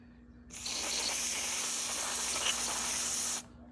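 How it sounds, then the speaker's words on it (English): Aerosol spray can, nearly exhausted, spraying a steady hiss onto a surface on a motorcycle engine for about three seconds, close and alone, starting and stopping abruptly. "I'm just going to spray the surface area a little bit and wipe it off."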